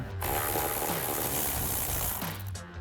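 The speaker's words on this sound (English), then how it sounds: "I'll grab an 8mm socket and pull those out." A ratchet with an 8mm socket backs out screws on a Sierra 1500 pickup while a cold air intake is removed. Rapid, close clicking runs nearly continuously for under three seconds, then stops.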